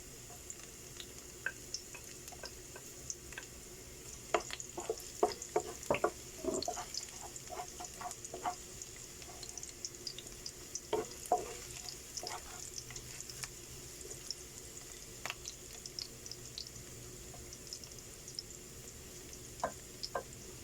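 Chicken gizzard browns with garlic in a pan, producing faint, steady sizzling with scattered clicks and stirring scrapes, close and quiet with no talk.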